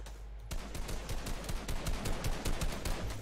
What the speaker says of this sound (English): No, I'm shooting someone.